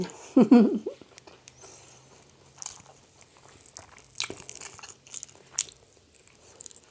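Someone eats spicy Thai fish laab close to the mic, starting with a loud wet bite followed by soft, sporadic chewing and mouth smacks in a quiet room.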